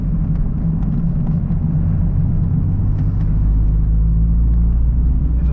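A car idles and pulls through a red traffic light on a town street in England, a steady low engine rumble with road noise, fairly close and continuous.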